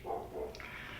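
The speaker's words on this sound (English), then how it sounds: "that's my dog out there." A dog barks out on a porch, a couple of short, muffled barks a little way off, followed by a higher yip, fairly faint.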